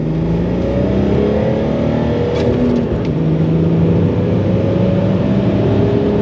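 A BMW 330d E46 with the M57 diesel engine revs hard while driving, a loud, steady engine drone rising in pitch through sustained acceleration, heard from inside the car with no talking.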